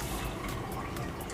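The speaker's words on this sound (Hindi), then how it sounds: "तो पानी डालता हूँ मैं इसमें, पानी डाल देते हैं।" Water is poured into a pressure cooker holding washed dal, making a short, steady gushing splash of filling liquid at close range.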